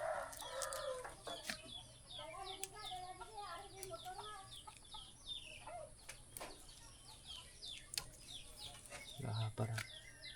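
Backyard chickens cluck and murmur in repeated short calls, with occasional sharper squawks and a brief flutter, heard fairly close amid a faint background hum.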